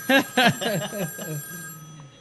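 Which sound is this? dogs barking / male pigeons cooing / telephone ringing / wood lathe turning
telephone ringing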